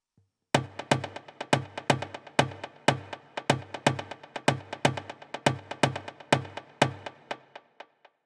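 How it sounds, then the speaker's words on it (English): Bongos in the drum section of an Afro House remix play a steady, fast, evenly spaced pattern of bright, tonal hits, loud and close, with no voices over them. "we have some bongos I added."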